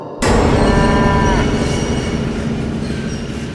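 A loud, drawn-out bovine low starts abruptly and holds for a few seconds, deep and close, fading slightly toward the end.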